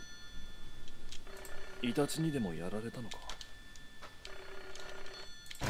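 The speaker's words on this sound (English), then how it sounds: "God, that's an old rotary phone, that is." An old rotary telephone rings inside a 1980s Japan horror game, its bell trilling in a steady repeated burst at moderate loudness, with someone talking briefly over the ringing.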